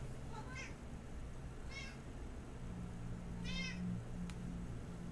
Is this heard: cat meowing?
yes